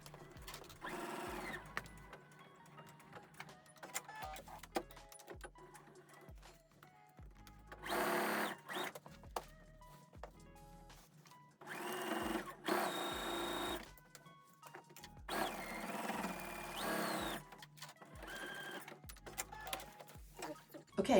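A sewing machine straight stitches across the top of a sling tote bag in several short bursts of fast whirring, separated by pauses with quiet handling noise.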